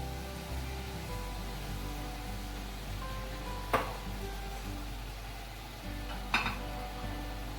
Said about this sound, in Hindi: हम दूसरे चूल्हे पे एक पैन रखेंगे